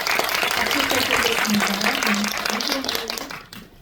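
An audience at a Netflix special talk event for the film Aema claps steadily, while a voice speaks over it, and the applause fades out at the end.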